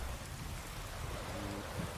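Rain falls steadily as a soft, constant hiss during play of The Witcher 3: The Wild Hunt, faint and unbroken with no talk over it.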